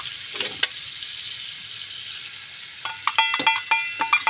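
Egg frying in a pan Pakistani style, a steady hiss of hot oil that turns into a burst of sharp crackles and pops near the end as it sizzles up close.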